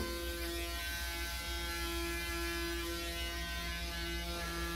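A Braun Series 9 9477cc electric foil shaver runs continuously at close range, giving a steady motor buzz with a strong tonal hum throughout.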